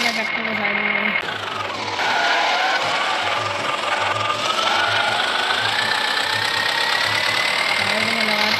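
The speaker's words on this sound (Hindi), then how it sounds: "ये देख लो भाई, अपना ट्रैक्टर भाई चल रहा है।" The engine of a New Holland 3232 tractor in a video game runs at a steady, droning idle that continues throughout. Someone talks over it for much of the time.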